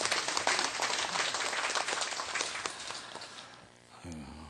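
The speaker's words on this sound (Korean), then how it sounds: "지난 8년 잘 정리해준 우리 임수혜 씨한테 박수 좀 보내주세요." A staff audience at a monthly open meeting applauds a presenter, a dense, steady crowd clapping that slowly thins out before a voice begins speaking at the end.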